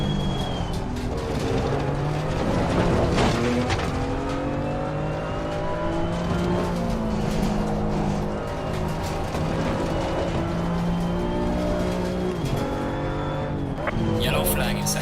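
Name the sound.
BMW M2 CS engine revving, video game Assetto Corsa Competizione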